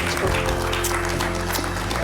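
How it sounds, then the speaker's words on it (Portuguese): A studio audience applauds at a televised interview, a dense, steady wash of clapping lasting a couple of seconds. "Muito obrigada, um aplauso."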